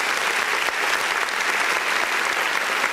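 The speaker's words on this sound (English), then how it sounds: "Please give him a round of applause." A dense, steady burst of audience applause at a motivational speaking event, loud and continuous throughout with no talk on top.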